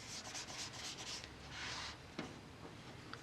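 Hands gently rub fondant icing around a cake topper ball to smooth it, giving a close, soft, continuous brushing friction with slight rhythmic strokes and a small tap near the end.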